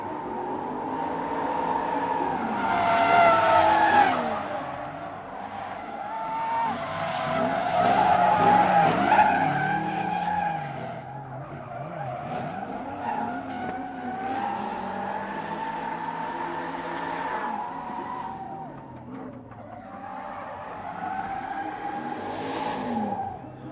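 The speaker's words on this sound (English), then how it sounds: "Let's have another round of tandem drifting." Two drift cars running in tandem at the Buddh International Circuit make long, loud tire squeals and skids over sustained engine roar, swelling and fading in waves.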